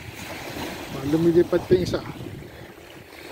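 Sea waves wash onto Arenal beach in Mallorca as a steady, soft rushing surf under close conversational talk from a person standing nearby.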